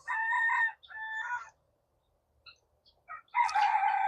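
Chickens on a mountain homestead, with a rooster crowing loudly twice near the start and again at the end, short clucks scattered between, close and clear with no talk.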